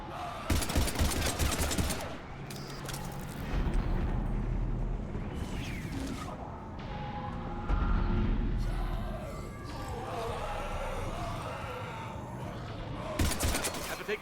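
Repeated gunfire in Mass Effect 2 as a squad shoots at husks, loud bursts clustering at the start and end with a steady rumble between, while someone talks over the fighting.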